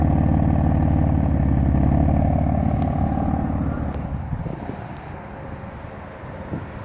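A BMW M4 with the S55 twin-turbo engine idles with a steady low rumble, close and continuous, easing slightly quieter midway with some wind buffeting.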